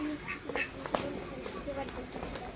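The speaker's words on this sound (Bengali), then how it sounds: "হাঁস নিয়ে আইছো" Ducks quack in short bursts at a busy village market, with steady crowd chatter and bustle around them.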